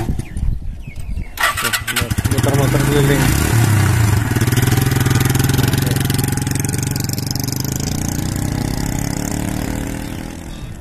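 An elderly roaming ice cream seller's motorcycle in Taiwan cranks and catches after a moment, then settles into a loud, steady running putter up close, with a person briefly speaking.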